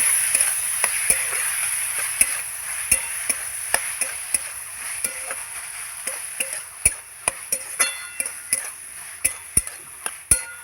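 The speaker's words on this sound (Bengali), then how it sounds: "এবার নাড়িয়ে চাড়িয়ে নেব মশলার সঙ্গে" Taro flower being stirred with spices in a pan, a steady soft sizzle beneath repeated sharp scraping and tapping strokes of a spoon against the pan, growing quicker toward the end, with no talking.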